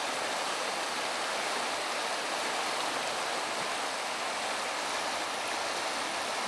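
A river swollen by rain rushes steadily in a broad, continuous hiss of water, loud and unbroken, with no voices.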